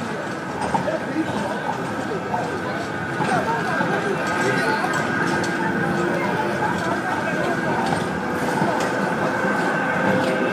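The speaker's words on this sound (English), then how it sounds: "Oh, come on, tram." A tram passes along a city street with a continuous rumbling roar and light clatter, while voices murmur in the background.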